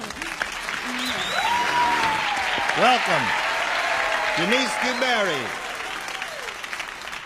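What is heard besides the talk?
polite applause from studio audience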